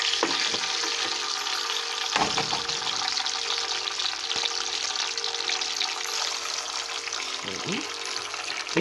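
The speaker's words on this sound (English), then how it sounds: "Now I can drop some eggs in there." Eggs fry in a pan for scrambling with a steady, moderately loud sizzle. A few sharp knocks and clatters break through it, with no voices.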